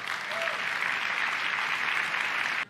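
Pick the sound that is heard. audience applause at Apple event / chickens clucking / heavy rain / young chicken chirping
audience applause at Apple event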